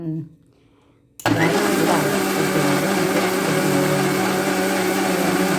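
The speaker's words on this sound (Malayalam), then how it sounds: "അത് നമുക്ക് കുറേശ്ശെ വെള്ളം ഒഴിച്ച് അരച്ചെടുക്കണം" A mixer grinder grinding soaked urad dal and fenugreek with water for idli batter: a short quiet moment, then the motor starts abruptly and runs as a loud, close, steady whirring drone.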